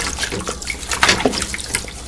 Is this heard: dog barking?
no